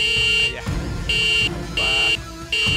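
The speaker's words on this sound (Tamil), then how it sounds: "நல்லா அது காதுல கேக்குற மாதிரி ஹார்ன் அடிங்க." A car horn honks three times in long, steady blasts with brief gaps, loud and close, over background rumble and a voice.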